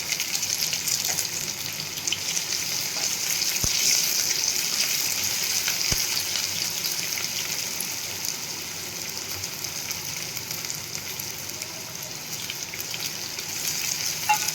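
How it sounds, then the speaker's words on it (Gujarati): Sliced onions for masala dosa filling sauté in hot oil with fennel seeds and curry leaves, giving a steady, close sizzle throughout with a couple of faint utensil taps. "ડુંગળીને આપણે 2 મિનિટ માટે સાંતળવા દઈશું।"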